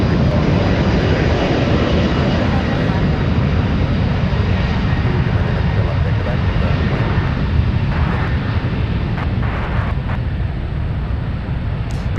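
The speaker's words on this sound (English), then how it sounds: "Dreamliner with the All Blacks livery. All right, off it goes." A Boeing 787 Dreamliner in All Blacks livery roars down the runway on takeoff at San Francisco, a loud sustained broadband jet engine rumble filling the whole stretch without letup.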